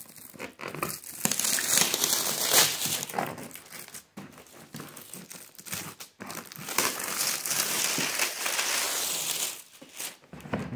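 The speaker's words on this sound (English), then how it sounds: "It's got some plastic wrapped around it. So let's go ahead and get that off of there" Plastic wrap stripped off the carrying case of a Btobi ARC-120 handheld stick welder, heard as continuous close crinkling and crumpling with brief tearing bursts and rustles over about ten seconds.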